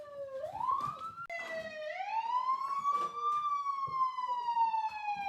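A police siren is played for dog training, a wailing electronic tone that sweeps up and down in long rising and falling glides. It is moderately loud and steady, with faint rustling and brief clicks underneath.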